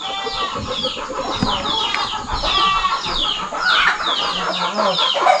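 Chickens around a farm hut cluck repeatedly at close range, with overlapping short calls and squawks and a few light thumps in the background.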